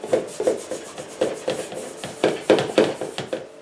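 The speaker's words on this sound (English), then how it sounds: "You're going to have to get your arm right in with the scratchy side of a sponge and just scrub it basically." Scrubbing dishes with the scratchy side of a sponge: close, rhythmic rasping strokes, about a dozen back-and-forth rubs at an even pace, loud and alone.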